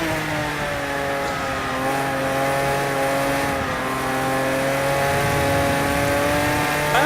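A steady, loud Porsche race car engine in the video game Project Cars 2 drones with layered harmonic tones, revving slightly up and down throughout, continuous and close with no talking.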